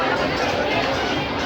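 A dense, loud wash of Sunday crowd chatter fills a busy water park in Mumbai, many overlapping voices blending into continuous hubbub with no single voice standing out.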